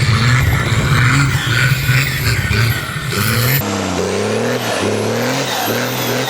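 A Cummins diesel-powered vehicle runs on open salt flats, its loud engine droning and rising in pitch, then shifting to a steadier, lower roar with wind noise and tyre rumble.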